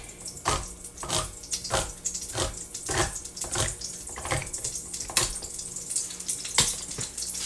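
Water from canned food drains in uneven splashes and trickles into a kitchen sink while a chicken soup or stew is being made, close and moderately loud with repeated pouring bursts and no talking.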